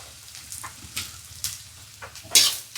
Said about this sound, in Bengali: তারপরে মাছের ঝালটা বসাচ্ছি